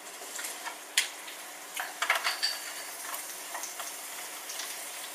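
Onions in a little oil in a pan start to cook, with a soft, steady sizzle and scattered light clinks and stirring taps. No one speaks.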